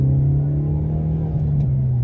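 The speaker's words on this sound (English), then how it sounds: "driving this, I love the sound of the exhaust." Exhaust from a 2023 Hyundai Elantra N while driving, a steady low droning rumble with a strong, even engine tone and slight pitch wobble, close and continuous with no talk.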